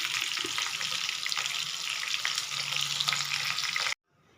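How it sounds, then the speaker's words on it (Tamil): Chicken pieces deep-frying in hot oil for a chicken gravy, a dense steady sizzle and crackle that runs loud and close for about four seconds, then cuts off abruptly to near silence. "இப்போ சிக்கனை நல்லா பொறிச்சு எடுத்துட்டேங்க"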